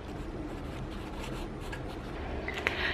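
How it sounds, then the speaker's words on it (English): A pen scratches across paper as a note is jotted down by hand, close, quick and continuous strokes with a small tap near the end. "Let me just quickly write it down."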